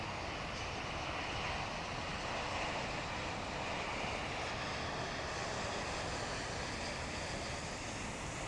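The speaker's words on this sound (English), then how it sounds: "Another Japan Airlines flight coming from Narita?" A Japan Airlines airliner arriving from Narita at Dallas–Fort Worth airport, heard as a steady broadband roar that holds at an even, fairly loud level throughout, with no voices over it.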